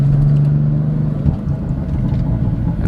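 BMW M3 E30 fitted with a Valvetronic competition exhaust, driving with a steady loud low engine drone and a brief bump midway, close and continuous with no talk.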